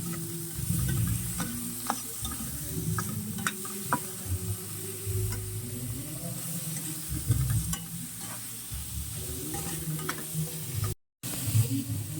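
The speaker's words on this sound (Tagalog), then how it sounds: "ginisa ko na ang sibuyas, bawang, nilagay ko na rin yung shrimp, nilagay ko na yung atay" Onion, garlic, shrimp and liver sauté in a pan with a steady crackling sizzle, punctuated by repeated scrapes and taps of a utensil stirring close by, briefly cut out near the end.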